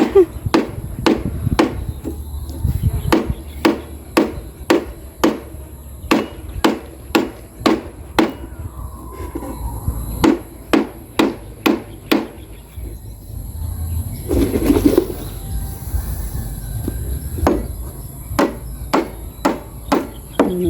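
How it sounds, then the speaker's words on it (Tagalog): Repeated sharp chops of an itak bolo knife striking wood while building a DIY fence at a house, landing in irregular bursts with short pauses, close and loud against outdoor background noise. "Yung itak ay napakahirap gamitin."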